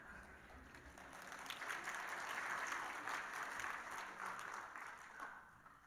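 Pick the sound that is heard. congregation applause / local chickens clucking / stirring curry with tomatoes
congregation applause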